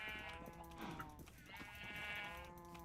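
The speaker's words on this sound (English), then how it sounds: "Come here, sheep." A sheep in a video game bleats faintly in a couple of wavering calls, heard quietly with no other clear sounds.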